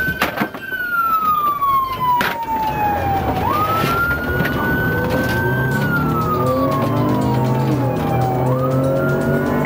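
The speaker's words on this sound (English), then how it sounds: "additional deputies who also activated their lights and sirens" Police car sirens wail loudly during a high-speed chase, the pitch sliding slowly up and down in long sweeps over a constant roar of road and engine noise.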